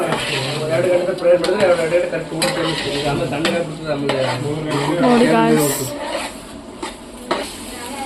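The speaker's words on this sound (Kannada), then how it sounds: "ಚೆನ್ನಾಗಿ ಫ್ರೈ ಆಗ್ತಿದೆ ನೋಡಿ ಎಣ್ಣೆ ಬಿಟ್ಕೊಂತ" Food frying in oil in a pan at medium-high heat, a steady close sizzle with stirring and utensil scrapes against the pan throughout, while a person talks over it.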